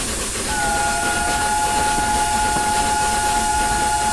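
Steady loud hiss of a locomotive sander in the RailWorks train simulator, running continuously over rumbling rail noise, with a sustained whistle-like tone held throughout.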